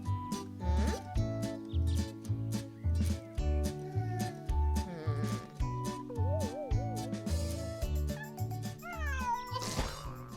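A cat in an animated cartoon meows in repeated, drawn-out cries over bouncy background music.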